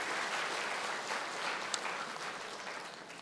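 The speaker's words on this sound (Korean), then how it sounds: "박수해 주시기 바랍니다." A church congregation applauds guests who have stood up, a steady, faint wash of clapping heard from a distance and running throughout.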